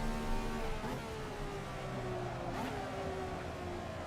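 A race car engine in a sim racing video game drones steadily at moderate volume, its pitch sliding slightly down and then holding, with no talking over it.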